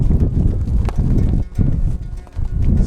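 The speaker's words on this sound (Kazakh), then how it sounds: "Сиырлар өздері кіреді, үйренген." Cows walking into a barn, their hooves clopping in a loose, uneven rhythm on the floor, close and fairly loud.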